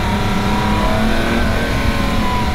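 Lamborghini Aventador Ultimae with its V12 engine, a loud continuous engine roar holding steady from start to finish, heard close without any speech.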